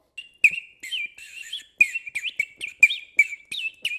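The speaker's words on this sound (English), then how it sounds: "you're supposed to put water in this and then it sounds like a bird, I guess" Water-filled 3D-printed bird whistle being blown, giving bursts of warbling, trilling chirps in quick irregular succession, close and clear over a silent background.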